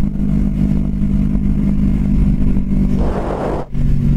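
A Kawasaki Vulcan S 650 Cafe ABS motorcycle on the road, a loud steady low engine drone with rushing wind noise close to the mic, rising briefly as the throttle opens near the end.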